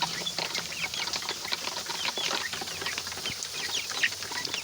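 Kadaknath chickens, young birds around 25 days old in a poultry shed, cluck and chirp continuously in a busy overlapping chorus, with occasional wing flutters and no voices.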